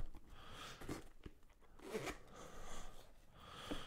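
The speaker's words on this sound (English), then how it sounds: "Zipper's pretty tight to get it to go around." A tight zipper on an Astro C40 TR controller case drags in several short, scratchy pulls with brief pauses between them, close up and fairly quiet.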